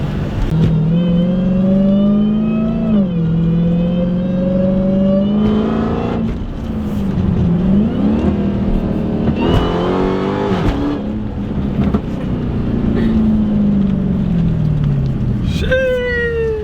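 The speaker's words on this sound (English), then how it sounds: "This is a Mopar, right?" A Mopar car engine revs loudly and close by, its pitch climbing and falling through repeated throttle blips, with people talking over it.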